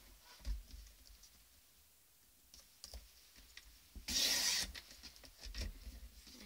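UK cardstock being trimmed to 11 inches, with scattered light clicks and taps and one brief, louder rasping cut in the middle, close and quiet with no talk.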